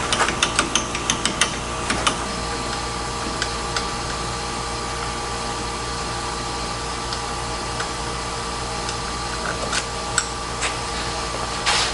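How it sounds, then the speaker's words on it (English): A ratchet wrench with a 10 mm socket clicks rapidly and close while removing the rear brake caliper on a Textron Wildcat 1000, with sharp bursts of ratcheting at the start and scattered clicks afterward. "just grab a 10 mil, take off that rear brake caliper"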